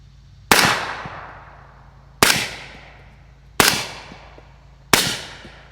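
Four suppressed shots from an 8-inch 300 Blackout rifle fitted with a Rex MG7 suppressor and firing 220 grain subsonic rounds, each a sharp, loud crack with a short decaying tail, spaced about a second apart outdoors.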